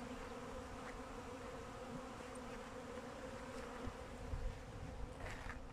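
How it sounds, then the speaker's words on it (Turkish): A swarm of honeybees flying in the air, unable to settle, hums with a steady, droning buzz, fairly faint and continuous, with no voices. "Arı konacak yer bulamıyor."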